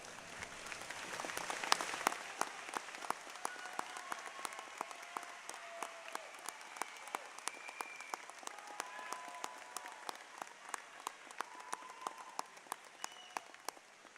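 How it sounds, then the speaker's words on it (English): A large crowd at a high school graduation ceremony applauds steadily throughout, a dense wash of clapping that holds at an even level from start to finish. "join me in a round of applause"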